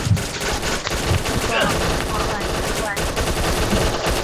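Gunfire in the shooter video game Bullet Angel, dense rapid automatic bursts and shots running continuously and loudly throughout, with no clear speech over it.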